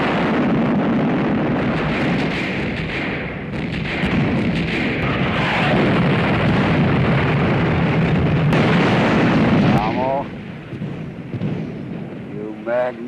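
Heavy artillery fire from a war movie booms and rolls in deep, sustained thunderous blasts, with sharper crackling reports near the end as the barrage thins out.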